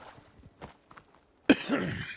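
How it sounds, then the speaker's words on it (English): A single sharp cough bursts out midway, close to the microphone, following quieter scattered noises and breaths, with a brief rough tail afterward. "Excuse me for the cough."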